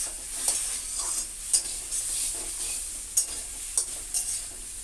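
Pressure-boiled potatoes stir-fried in a pan for aloo dum, giving a steady soft sizzle with a few sharp scrapes and clacks from the spatula, close by and without speech.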